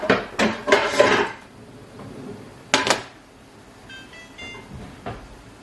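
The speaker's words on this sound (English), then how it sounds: "So let me get my skillet." A cast-iron-style kitchen skillet is pulled out and handled during meal prep, giving several loud, close metallic clanks and knocks in two bursts, followed by quieter clinks and faint ringing.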